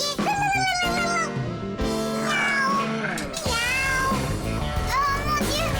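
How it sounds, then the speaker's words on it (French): A cartoon cat meows in a drawn-out, voice-like call over continuous background music, loud and close throughout. "Miaou."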